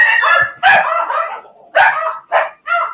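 Several Dachshunds at a rescue bark and yip in quick, loud bursts close by, about five separate barks over a few seconds with brief gaps between them.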